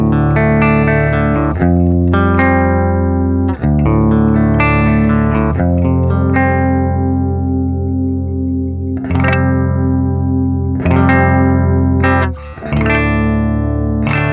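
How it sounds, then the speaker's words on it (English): A clean electric guitar sounds through a Mesa 2x12 bass cabinet impulse response mixed with an SM57 mic, strummed chords and ringing arpeggiated notes with a chorus-like shimmer, sustained and full, played alone. "one that I've always wanted to try on clean guitar, this Mesa 212 that I've got here, that's actually a bass cabinet"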